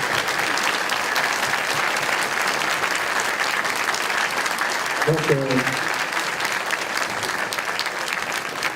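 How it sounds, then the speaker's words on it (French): Audience applause after a debate, sustained dense clapping from a hall crowd that holds steady throughout, with a voice briefly speaking over it midway. "Alain mérite tous vos applaudissements et toute l'équipe de TAS."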